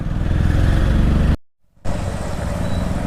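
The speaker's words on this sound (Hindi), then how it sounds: "और इतनी खतरनाक बाइक चला रहा है" A motorbike taxi rides through city streets, its engine droning loud and steady up close, with a brief drop to near silence midway before the roar resumes.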